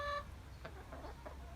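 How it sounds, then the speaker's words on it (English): Backyard chickens in Crampton, Northumberland give a few soft, short clucks close by after a brief electronic beep, over a low outdoor hum. "there's my chickens"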